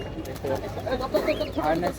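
Pigeons cooing amid a busy bird market at Hemayetpur in Savar on a rainy day, with people talking nearby and other birds chirping in the background.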